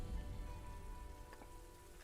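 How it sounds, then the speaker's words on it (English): Rain falls steadily in the survival video game Survival: Fountain. Soft, even patter and hiss keep a constant level with faint scattered drop taps and no voices. "It's still raining"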